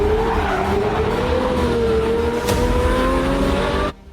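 A Lamborghini Murciélago engine howls at sustained high revs across the hills, a loud, smooth, rising and falling tone that cuts off abruptly near the end.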